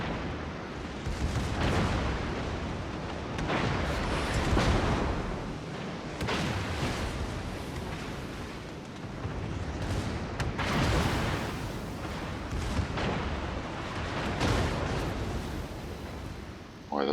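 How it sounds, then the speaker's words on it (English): Secondary guns of the battleship Georgia fire in World of Warships as a loud, continuous barrage of booming, rumbling bursts that roll on one after another with no pauses. "Boy, those secondaries are really working."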